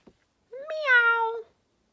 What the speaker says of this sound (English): The cat says, meow, meow, meow.